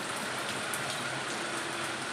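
Continuous heavy rain pouring down, a broad even hiss with no voices or other sounds.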